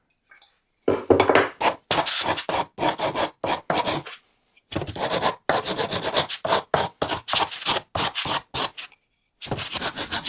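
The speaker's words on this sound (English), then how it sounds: "I'm going to tidy it up now with a bit of hand sanding" Repeated rough scraping strokes of 80-grit sandpaper on wood by hand, close and steady, in bursts with brief pauses between them.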